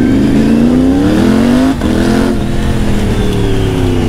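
A new motorcycle revving hard close by, its engine note climbing steadily in pitch, dipping briefly during a gear change, then rising again, loud and unbroken with no talk.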